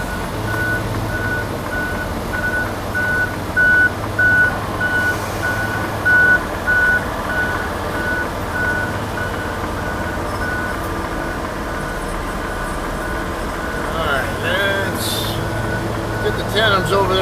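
A flatbed truck backs in at a construction delivery in Irvine, California, its reversing alarm beeping in an even, repeating pattern over a steady engine drone. Voices talk in the background.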